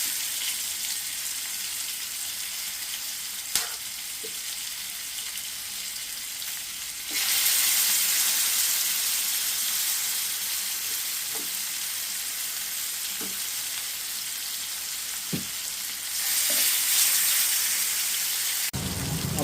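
Chicken pieces sizzling on an oiled grill pan, a steady close hiss that swells louder as more pieces go down, with occasional clicks and taps from handling.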